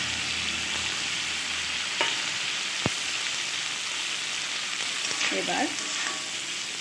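Steady, loud sizzle from fried pumpkin and bitter gourd being stir-fried with masala in a pan, with a couple of sharp spatula taps and a brief scrape; one short spoken word near the start.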